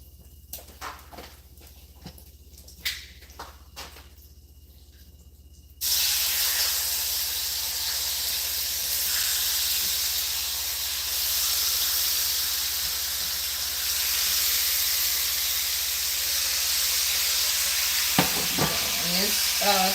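A steady, loud hissing sizzle of chicken frying in olive oil in a pan, continuous and close, following a few seconds of quieter clattering.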